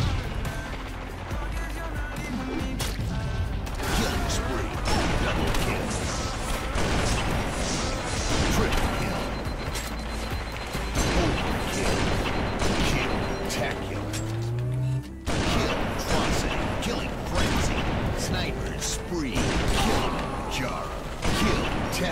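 Gunfire during a Big Team Battle match in a Halo game, dense bursts of shots and impacts with vehicle noise and crashes, near and loud throughout, while a player shouts over it.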